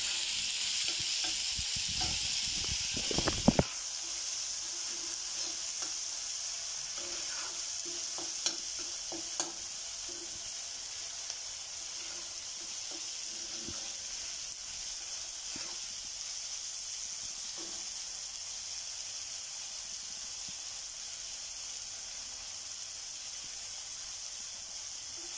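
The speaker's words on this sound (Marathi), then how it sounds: "कांद्यात मीठ टाकल्यामुळे कांदा थोडा लवकर भाजला जातो." Onions with salt frying in a pan for a dry bitter gourd bhaji, a steady close sizzle and hiss throughout, with a few clattering stirs near the start and occasional light scrapes.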